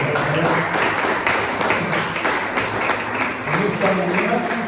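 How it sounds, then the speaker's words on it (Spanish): Church congregation applauding together in a service, a loud, steady patter of many hands clapping in a loose rhythm, with voices speaking and calling out over the clapping. "Démosle un aplauso al Señor."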